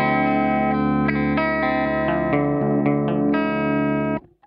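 A sustained electric guitar tone through a compressor pedal, several notes changing over a held chord, smooth and even in level, ringing out before cutting off at the end.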